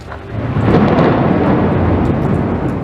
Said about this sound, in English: Violent thunderstorms last night following a month's rainfall in just a few hours.